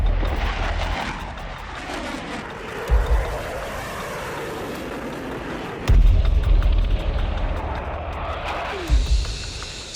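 F-15 fighter jets scrambling for takeoff, a loud, continuous broadband roar with deep rumbling surges that swell every few seconds, close and unbroken throughout.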